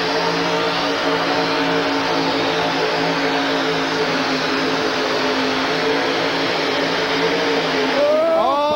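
Orange Blossom Special 2 pulling truck roaring loud and sustained through an arena truck pull, a dense, constant engine blare with droning harmonics, rising in pitch near the end.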